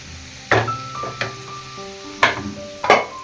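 Chicken kosha cooks in a pan with a soft background sizzle, while a utensil strikes the pan in several sharp, ringing clanks spaced irregularly over a few seconds.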